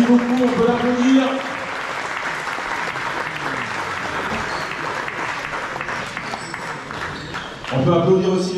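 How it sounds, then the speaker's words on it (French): Sustained audience applause at a talk on physical preparation for young basketball players, steady clapping between a speaker's voice at the start and end. "on peut l'applaudir"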